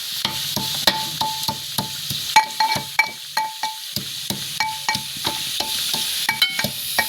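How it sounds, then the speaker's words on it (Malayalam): Ginger and garlic crushed together while making chicken curry, a series of sharp, fairly close pounding knocks in an irregular rhythm with short pauses, heard alone without talk. "ഞങ്ങൾ ഇന്ന് ഇഞ്ചിയും വെളുത്തുള്ളിയാണ് ചതക്കണേ."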